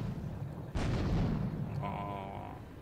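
Gunfire in the video game Grand Theft Auto 3: a sudden loud blast with a rumbling tail that slowly fades, then a faint ringing tone, with no talk over it.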